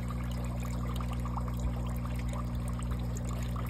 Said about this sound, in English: and there wasn't much water coming out.